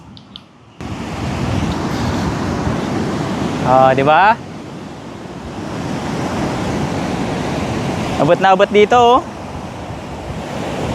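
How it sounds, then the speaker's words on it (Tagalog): Steady rushing surf and wind at Saud Beach, Ilocos Norte, wash over the microphone, loud and continuous, with a person speaking briefly twice over the roar of the waves. "Parinig ko sa inyo yung dagat"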